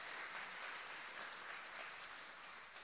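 A church congregation at a thanksgiving morning service applauds steadily, a faint, even wash of clapping from many hands that carries on without a break.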